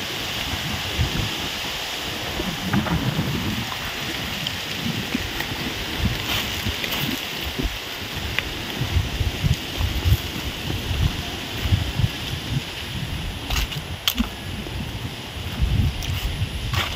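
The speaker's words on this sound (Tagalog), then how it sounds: "dito talaga ang hangin eh" Strong typhoon wind sweeping across an open farm field of toppled banana plants, a continuous roaring rush with low buffeting gusts throughout, loud and steady with no clear voices.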